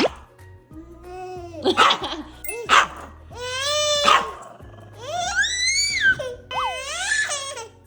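A dog gives a run of high, rising and falling yelps and whiny barks indoors in a family home, several bursts spread across the stretch with short gaps, fairly close and loud.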